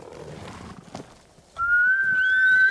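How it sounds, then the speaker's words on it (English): A horse in the Ghost of Tsushima video game gives a bright, rising whinny after a few soft hoof thuds and rustles, loud and close, with no talking. "Horse!"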